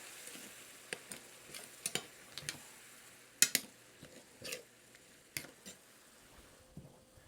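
Beef stock mixture for a Jamaican-style patty filling is stirred in a bowl with a utensil: faint, close, sparse clicks and soft wet scrapes over a quiet background.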